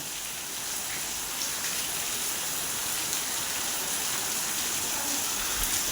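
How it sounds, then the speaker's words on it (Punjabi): Steady, dense hiss of heavy rain pouring down over farm fields, unbroken and loud, with no pauses across the whole stretch. "ਬਹੁਤ ਮੀਂਹ ਆ ਬਹੁਤ ਮੀਂਹ"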